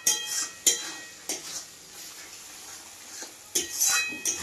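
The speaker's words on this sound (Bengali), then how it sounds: "এইভাবে এবারে আমি কিছুক্ষণ ভাজবো মশলা" Spices frying in a pan for a mutton curry, with steady close sizzling broken by several sharp clinks of a spoon stirring against the metal pot.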